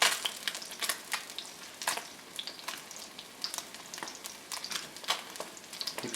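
Creamy polenta with melted mascarpone being stirred in a pan on the stove, giving a steady run of scraping, bubbling sizzle bursts at close range, with no talk.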